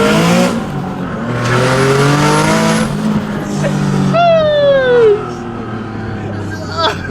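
A turbocharged Nissan 370Z Nismo accelerates hard through its gears, engine note rising and falling with a shift, heard up close from inside amid excited voices.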